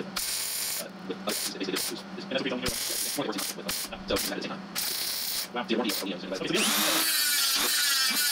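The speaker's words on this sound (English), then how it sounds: "I know where to drill the screw hole" A power drill whirs in short repeated bursts with ratcheting mechanical clicks between, close and fairly loud, ending in a higher-pitched spin, drilling a screw hole in a Triumph TR4 floor during restoration.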